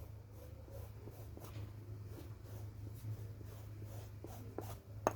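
Pen or chalk scratching softly along a pencil skirt pattern as a line is drawn, faint and close over a low steady hum, with a few small taps at the end.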